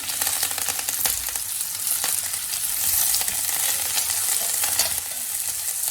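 Onions and curry leaves frying in oil in a pan for bhindi masala give a bright, crackling sizzle with scattered pops and stirring scrapes, steady and close, with no talking.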